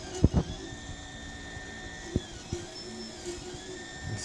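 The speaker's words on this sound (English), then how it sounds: "Printing a hook here." A desktop 3D printer runs a print of a hook in Proto Pasta aromatic coffee filament, its stepper motors giving a steady whine with shifting tones, broken by a few sharp clicks and knocks, close by with no talking.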